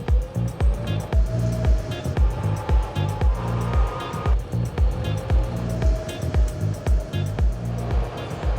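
A homemade low-slung car built by three people in a lockup drives off with a loud, close engine that throbs in a steady pulsing rhythm, and a voice talks briefly over it.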